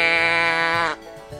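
A single sustained sheep bleat, loud and close, with a rich harmonic tone lasting almost a second, then quiet room tone; farm animal sound for children's learning.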